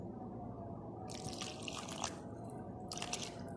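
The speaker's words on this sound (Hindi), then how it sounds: "अब इसमें मैं पानी डालूँगी" Water pours into a cooking mixture in two short bursts of splashing and trickling, faint and close against a low background hum, with no talking.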